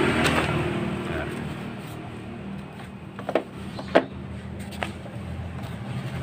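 A Yamaha Mio M3 scooter engine idling with a low rumble, stumbling and sputtering as the throttle is blipped, with a few uneven bursts heard up close.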